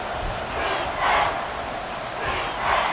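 A stadium crowd in a Madden football video game roars and cheers in swelling waves ahead of a big third down, a continuous loud wash of many voices with no clear commentary on top.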